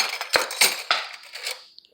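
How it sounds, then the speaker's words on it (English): A metal spoon is picked up and clinks against dishes and cutlery, making four or five bright, close clattering hits over a short stretch before it settles. "we're gonna get a little spoon"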